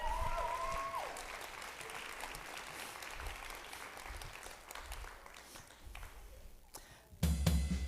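An audience at an education rally keynote claps as two people are called up on stage. The applause is fairly faint and steady, with a brief tonal whistle near the start and a louder, thumping stretch at the very end.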